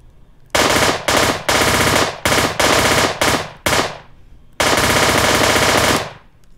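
A 50-round automatic weapon in the shooter game Virtual Warfighter fires in loud, close bursts of rapid gunfire separated by brief gaps, with a longer burst near the end before it cuts off.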